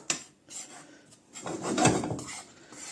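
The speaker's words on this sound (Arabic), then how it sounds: "اقعد اقلب فيها كده برضو لغايه ايه تسخن، الدقيق يسخن معايا" Flour stirred and scraped around a hot dry pan to drive out moisture, a rasping rub that swells louder midway and fades, with no voices.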